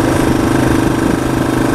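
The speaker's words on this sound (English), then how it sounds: "Just give it a little bit of throttle." A dirt bike engine runs steadily at a low idle, a close, loud, even rumble with a fast pulsing beat and no throttle change across the short stretch.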